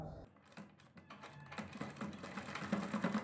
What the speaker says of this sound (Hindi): अपनी डोरी को अंदर की तरफ डालेंगे और सिलाई से अटैच करेंगे